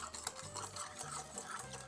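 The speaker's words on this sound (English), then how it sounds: "Whisk it." Jello powder being whisked into half a cup of hot water, heard as a steady, close scraping and stirring that runs on without a break.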